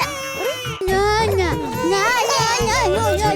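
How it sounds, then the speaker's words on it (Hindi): An infant cries loudly and continuously, with wavering wails rising and falling in pitch, and voices are mixed in beneath the crying. "ये बच्चे की रोने की आवाज कहाँ से आ रही है भाई?"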